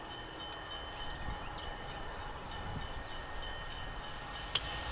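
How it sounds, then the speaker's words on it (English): Three locomotives leading a consist arrive on a rail line, a low continuous rumble of diesel engines and rolling cars with faint metallic squeal and a brief clank near the end. "Leading the consist, 3 locomotives coming to the rescue."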